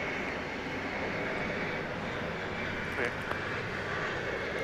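Jet airliner engine roar at Dallas/Fort Worth airport at night, a steady broad rumble sustained at moderate distance with no break.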